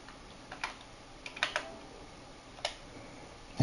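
Sparse keystrokes on a computer keyboard, a few quiet scattered clicks and a small cluster of taps over a faint steady hum, with no speech.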